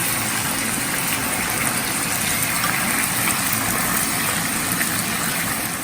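Small potato cubes fry in a pan for sesame aloo, giving a steady, even sizzling hiss that holds throughout with no talking.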